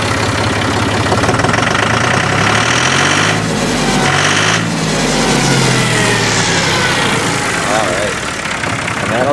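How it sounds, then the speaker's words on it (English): A farm tractor engine idles close by with a continuous low, loud rumble and a rhythmic knocking pulse that shifts pitch slightly as it runs. "Here's the tractor again."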